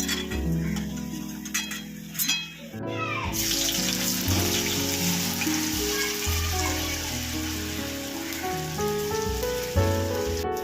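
Bitter gourd slices frying crisp in oil, a dense, steady crackling sizzle like rain on a surface, heard close and constant beneath sustained background tones, with no talking.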